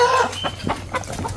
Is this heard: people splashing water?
no